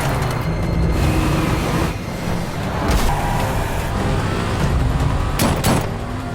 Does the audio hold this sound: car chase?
yes